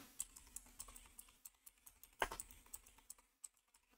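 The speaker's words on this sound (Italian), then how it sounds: "nel motore di ricerca andremo a digitare Gentiluomo Digitale" Quiet, rapid typing on a computer keyboard, irregular clicks of keys with one louder tap partway through, heard close with no talking.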